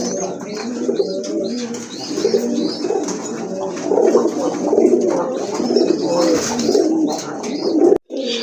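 Several pigeons coo in low, repeated throaty calls close by, overlapping continuously with a few brief chirps; these are Giribaaj pigeons kept for sale.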